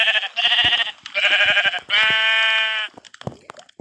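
Sheep in a farm video game bleat three times in a row, two short wavering calls and then a longer, steadier one, loud and close with no talk over them, followed by a few light clicks.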